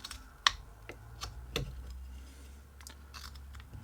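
A knife carves a wooden wand in close, quiet, irregular cuts: sharp little clicks and scrapes spaced out over a faint background hum.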